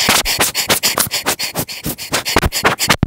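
A camera air blower puffs straight into a microphone, giving a fast series of close, breathy bursts of air noise in a steady pulsing rhythm for about three seconds, ending in a couple of sharper puffs.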